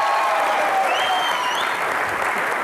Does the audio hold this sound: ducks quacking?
no